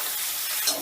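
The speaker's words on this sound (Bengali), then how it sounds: "এবার সয়াবিনটাও কিন্তু আমি হালকা করেই ভেজে নেব" Soybean chunks frying lightly in a pan, a steady close hiss and sizzle throughout with a brief stir near the end.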